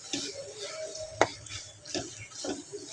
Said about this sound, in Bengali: ভালোভাবে কষাবো।